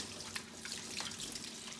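Water runs steadily from a kitchen tap as hands are washed, a continuous low splashing hiss with small bright spatters, fairly close and alone without any talk.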